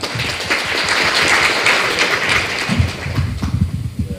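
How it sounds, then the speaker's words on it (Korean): Audience applause of welcome fills a hall at a Korean education policy forum on school violence, steady clapping from a seated crowd that swells, then thins into scattered claps with faint murmuring. "환영의 박수 부탁드립니다."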